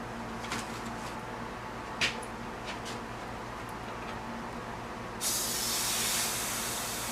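An Inokraft non-aerosol pressure sprayer leaks air: faint handling clicks come first, then a loud, steady hiss starts abruptly partway through and keeps going to the end.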